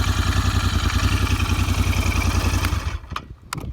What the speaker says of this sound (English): it actually sounds really cool. Great sounding bike.